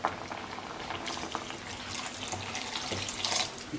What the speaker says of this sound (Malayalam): അപ്പം ദേ തലപ്പാൽ ഒഴിക്കുവാണേ.